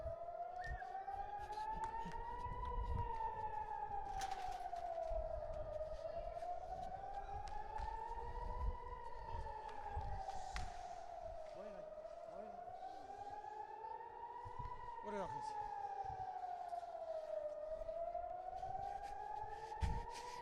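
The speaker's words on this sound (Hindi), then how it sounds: "एक बार फिर से सायरन बज गए हैं" An air raid siren in Tel Aviv wails, rising and falling in slow, repeating cycles, loud and steady throughout, with faint voices and background noise underneath.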